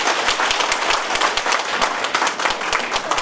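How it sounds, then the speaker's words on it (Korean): A town hall crowd in Daegu gives warm applause to a citizen from Gwangju, with close, crisp individual claps standing out over a busy, continuous patter for a few seconds. "우리 광주에서 오신 광주 시민 현 선생님을 대구 시민이 사랑한다는 의미에서 뜨거운 박수"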